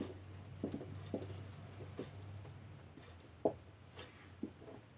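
A mixed number example handwritten with pen or marker, giving close, quiet scratchy strokes and light taps in short irregular bursts over a faint steady hum.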